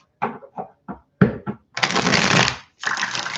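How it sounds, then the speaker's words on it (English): Tarot cards are shuffled up close: a few quick short riffles, then two longer, rushing riffle shuffles, with no voices. "Got to get a couple good shuffles for Aquarius."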